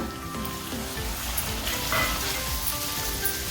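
Chopped tomato dropped into a pan of frying green chillies and pink-softened onion, a steady close sizzle and crackle of oil for the whole stretch, with a brief louder hiss midway.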